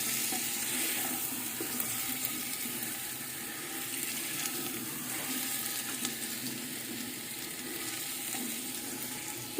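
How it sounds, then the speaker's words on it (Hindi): Potatoes being mixed into chicken biryani in a clay pot produce a soft, steady sizzle and watery bubbling throughout, with faint stirring scrapes and no speech. "अब इसमें ऐड करेंगे आलू। बिस्मिल्लाहिर्रहमानिर्रहीम। अच्छे से मिक्स करेंगे।"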